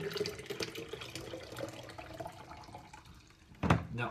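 Leftover homemade lemon ginger tea is poured into a container, making a steady splashing trickle of liquid with a brief louder gush near the end.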